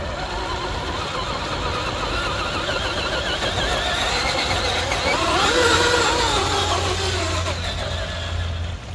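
An FMS FCX10 RC crawler grinds up a steep muddy slope, its electric motor whining steadily as wheel speed builds, loud and continuous throughout with a slight rise near the middle.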